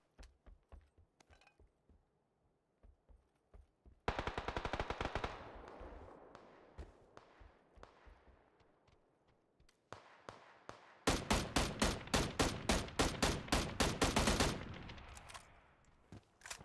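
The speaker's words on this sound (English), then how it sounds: "I think I was trying to pistol the hell out of that guy." Pistol gunfire in the PUBG video game: quieter scattered shots first, then a loud rapid burst of cracks, followed by a long, dense, rhythmic string of sharp shots, each with a ringing decay.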